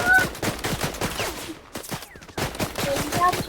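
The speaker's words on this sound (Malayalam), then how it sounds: "എവിടെ വെടിയുണ്ട് കേട്ടോ." Rapid bursts of gunfire in the video game Fortnite, sharp repeated shots in quick volleys with a brief lull in the middle, alongside faint game sounds.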